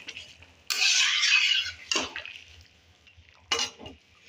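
A boiled potato being mashed into bottle gourd and fish curry in a pot, a few bursts of wet squelching and spoon scraping separated by quiet pauses, close by.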